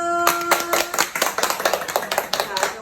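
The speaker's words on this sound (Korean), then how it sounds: "우리 친구들에게 다시 한번 박수!" Children in a classroom clap for their classmates after an art lesson, a brisk run of sharp, uneven handclaps lasting a few seconds, close and fairly loud.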